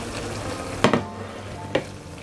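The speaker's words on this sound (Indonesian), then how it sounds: "Diaduk-aduk lagi ya teman semua." Tomatoes being stirred into green chili pindang broth in a pan, with a steady low simmering hiss broken by two short clattering scrapes of the spoon against the pan.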